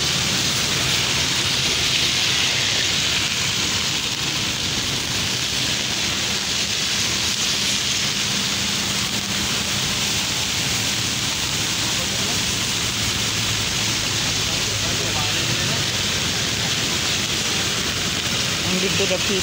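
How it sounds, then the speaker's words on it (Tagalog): Typhoon Odette floodwater rushes steadily beneath Mandulog bridge in Iligan City, a dense, continuous roar filling the whole stretch, with faint voices occasionally heard under the churning torrent. "Grabe yung baha oh."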